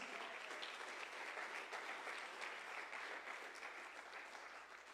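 Sustained applause from a church congregation at a sermon, a steady dense wash of clapping that holds throughout and tapers slightly toward the end.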